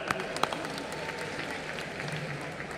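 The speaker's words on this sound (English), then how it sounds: "Round of applause for all three of them." Audience applause at the closing ceremony of the 53rd International Film Festival of India in Goa, a steady wash of clapping from a large crowd that holds even for about three seconds, with faint voices mixed in.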